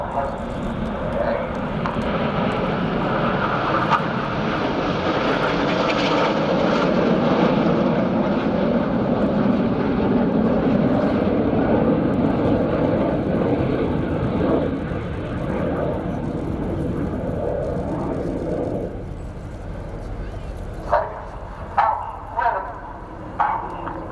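Panavia Tornado jet roaring past at the RIAT 2019 Royal Air Force air show alongside the Red Arrows, a loud sustained broad engine rumble filling the scene before easing off, with a few sharper bursts near the end.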